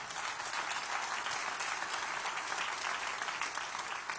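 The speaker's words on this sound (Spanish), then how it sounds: "Denle un aplauso a Jesucristo." Church congregation applauding steadily for several seconds, a dense even wash of many hands clapping together with no voices over it, following a call during a sermon to applaud Jesus Christ.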